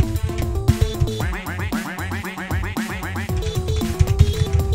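A cartoonish duck quacks in quick rhythmic bursts over a busy, loud electronic song in the Friday Night Funkin' VS Tree mod, the quacks repeating in a run through the middle.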